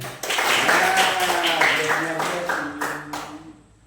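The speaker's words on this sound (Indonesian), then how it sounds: "Tepuk tangan dulu." Students in a classroom during a maths lesson clap their hands together in a sustained, lively burst, with voices sounding over the claps until they fade near the end.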